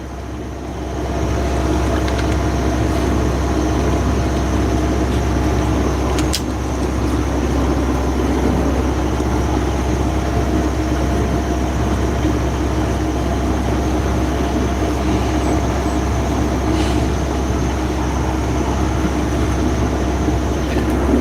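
A boat's engine drones steadily and loudly throughout while under way departing the Solomon Islands, a continuous low rumble with a constant hum and no talking.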